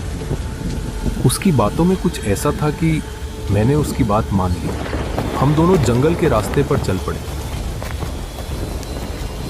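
Steady rain falls through a stormy night, with a low rumble of thunder underneath. Someone narrates in Hindi over the top of it.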